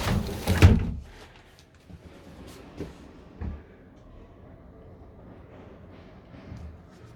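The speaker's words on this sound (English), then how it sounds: "Door closes like this, as does the other one as well." An interior door of a Rapido 866F motorhome swinging shut with a loud, close thud, followed by a few quieter knocks and rattles as it settles.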